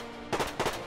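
Two quick bursts of gunfire crack out in a World War II video game, each a tight cluster of close, loud reports separated by a brief pause.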